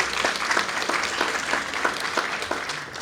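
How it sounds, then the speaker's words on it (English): Audience applause at the grand opening ceremony of the West Perry library branch, honoring the library board members: a steady wash of many hands clapping, fairly close and continuous throughout with no talk over it. "let's give them a round of applause for everybody that had something to do with"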